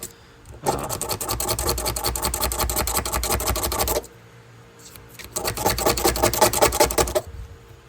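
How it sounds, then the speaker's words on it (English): Screwdriver scraping built-up gunk out of the bottom of an Ideal pocket knife, heard as two long, dense stretches of gritty metal-on-metal rasping separated by a short pause, close and steady. "I'll try to come back with my screwdriver, and I'll just kind of scrape all that stuff out down in the bottom"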